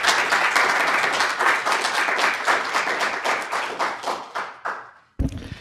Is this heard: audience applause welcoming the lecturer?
yes